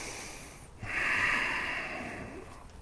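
Deep breathing in a yoga flow class during standing poses, heard as one long, close, audible breath lasting over a second, with a quieter hiss of air before it and no speech.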